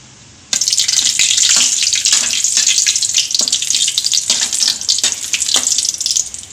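Dried red chillies and curry leaves fry in a pan with a loud, close, continuous hiss and sizzle that starts abruptly and crackles with small pops throughout.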